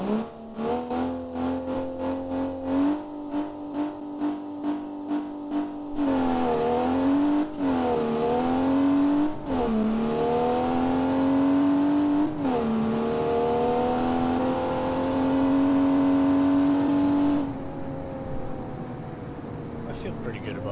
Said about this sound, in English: over-revving the shit out of the truck